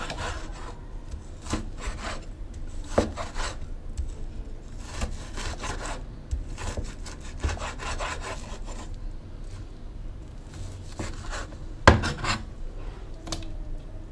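Repeated knife strokes on a board chop beef into small pieces, an irregular scraping and thudding rhythm, close by with occasional louder knocks and no talking.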